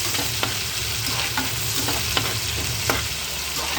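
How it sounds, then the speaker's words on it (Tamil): Steady sizzling of coriander sautéing in hot oil, with occasional scraping clicks of stirring throughout, close and moderately loud. "கொத்தமல்லியும் நம்ம எண்ணெயில் வதக்கிடணும், அப்போ தான் அது கெடாது"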